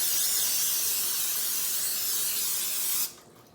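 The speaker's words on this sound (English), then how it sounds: "you want to first start off by spraying a pan" A steady aerosol hiss of cooking spray onto a baking pan for about three seconds, close and even, cutting off abruptly near the end.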